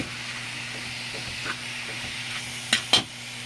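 Food cooks quietly in a pan for a homemade no-bake macaroni dish, giving a soft steady sizzle with a low hum beneath and two sharper clinks or stirs near the end.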